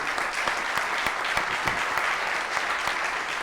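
A crowd claps steadily at a city council meeting, a dense patter of hands sustained for several seconds at fairly close range.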